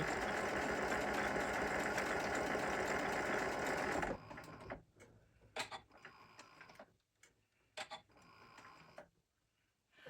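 Domestic sewing machine stitching a beginner's sling pouch, running steadily and loud for about four seconds, then stopping, followed by scattered clicks and fabric handling sounds.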